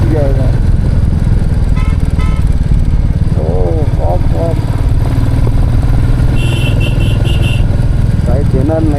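Motorcycle ridden on a mountain ghat road from Diskit to Pangong in Ladakh: a steady, close engine drone throughout, with a short burst of horn beeps and voices talking over it.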